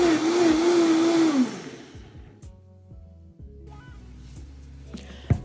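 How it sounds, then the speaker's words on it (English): A blender whirs loudly for about two seconds while blending an ancho chili mixture, then winds down and stops, leaving quiet kitchen handling noises and a brief clunk near the end. "my blender blended it so smooth"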